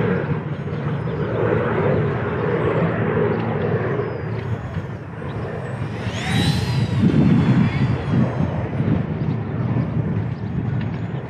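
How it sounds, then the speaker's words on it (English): An XK A170 Boeing 787 RC model plane flies with a continuous buzzing electric motor hum that swells as it passes close mid-clip, with wind buffeting and a voice talking over it. "Actually, it does kind of fly more stable when it's flying fast."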